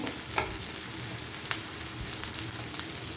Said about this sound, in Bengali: পেঁয়াজটা আমি আরেকটু লাল লাল করে ভেজে নেব